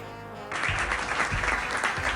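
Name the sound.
audience applause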